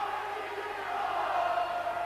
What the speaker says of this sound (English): The crowd go up